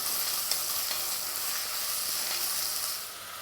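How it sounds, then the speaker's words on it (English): Onions sizzle in a tablespoon of olive oil in a hot pan, a steady, close bright hiss with a few soft stirring clicks, fading slightly near the end. "We're going to saute the onions."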